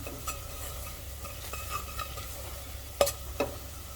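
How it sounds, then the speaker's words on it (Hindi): Onions with coriander, amchur and cumin masala being stirred in a pan for Sindhi seyal fish, a soft steady sizzle with a few light scrapes and taps of the spoon, close and without talk. "अब मसाला को मिक्स कर लेंगे अच्छे से।"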